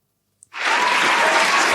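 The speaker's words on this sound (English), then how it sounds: "Can you give yourself a round of applause" A sudden burst of dense clapping from a group erupts after a brief silence and continues loudly and evenly, a round of applause with no voices over it.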